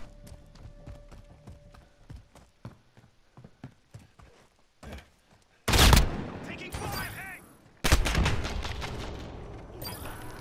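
Two loud, close gunshot blasts, the second about two seconds after the first, ring out from a shotgun in a Call of Duty Modern Warfare match, following a stretch of quieter footsteps and small clicks.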